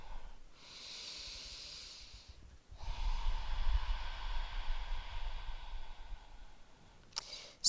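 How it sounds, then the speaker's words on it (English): A person breathes deeply during gentle spine stretching, with a long, soft exhale followed by a fuller, louder breath close to the listener, then a brief sharp sniff near the end, with no talking. "and breathe."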